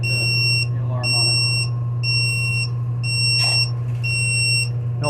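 A household alarm beeps in a steady rhythm of short high tones with regular gaps, loud over a constant low electrical hum during work on a tankless water heater, with brief clatter and soft talk nearby.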